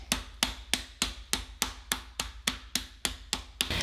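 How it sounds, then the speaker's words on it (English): Chicken sealed inside a bag is pounded flat with a mallet, about twelve sharp, evenly spaced close thuds in quick succession, with no talking. "place the chicken into the bag here, into the bag. Seal it, and then I'm just going to hammer it out so it's nice and even."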